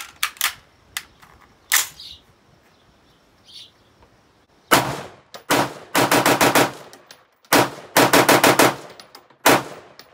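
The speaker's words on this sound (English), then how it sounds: "Shooting with just a mil-spec trigger, and we're doing it old school, like I said, with the iron sights." A Colt Commando clone rifle with a mil-spec trigger fired outdoors on iron sights, loud sharp shots, first scattered singles, then rapid strings of several shots in quick succession, with gaps of quiet between them.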